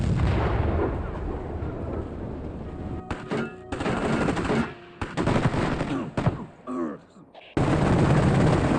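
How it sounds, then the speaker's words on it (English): Live weapon fire at an outdoor firing range, recorded for game sound design: loud, dense bursts of gunfire and heavy reports with short gaps between volleys, close and booming. "Sound Deluxe set up a firing range and did some live weapon fires out there"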